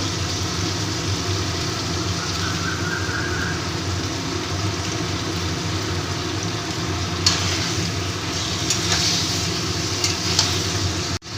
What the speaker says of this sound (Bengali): এই আদা রসুন লঙ্কার সাথে চিকেনটাকে ভেজে নেব